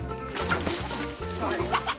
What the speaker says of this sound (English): In this chicken chase, the chickens are winning